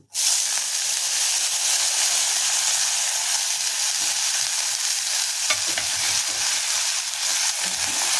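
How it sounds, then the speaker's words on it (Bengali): Steady, loud sizzling of potatoes frying in a pan, with occasional stirring scrapes, continuing without any talking. "আলুটা একটু ভেজে নেবো"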